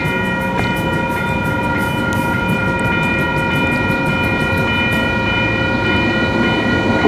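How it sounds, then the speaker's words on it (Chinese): A train passing close by at a level crossing with barriers lowered, on a line running through a university campus in Canada. A loud, steady rumble and rolling clatter continue throughout, with a repeated bell ringing over them. "我们看火车来了。"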